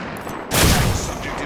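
Gunfire in the Apex Legends battle royale game: a dense broadband burst of shots erupts halfway through after a quieter lead-in, then holds as a sustained, loud volley until the end.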